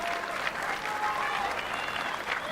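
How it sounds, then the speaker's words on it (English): An audience at paraclimbing finals in Villars applauds steadily, a dense, continuous clapping from a crowd, with a voice faintly audible beneath it. "We get to show Aayita come off the stage with a great applause for a really, really amazing performance today."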